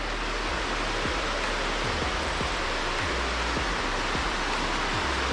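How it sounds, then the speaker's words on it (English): Roaring cascade of a waterfall on a North Georgia hike at Helton Creek Falls, a loud, continuous hiss of rushing water close by, with faint low thumps from footsteps on the slippery rocks. "we have gotten to the first waterfall"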